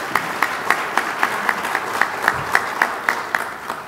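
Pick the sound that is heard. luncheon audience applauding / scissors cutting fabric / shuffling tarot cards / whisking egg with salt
luncheon audience applauding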